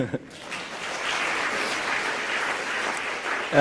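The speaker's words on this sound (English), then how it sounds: "can we give him a round of applause?" A crowd applauds Frank during an opening speech at SCAF 2013, a steady, dense wash of clapping that holds at an even level throughout and swells slightly at the very end.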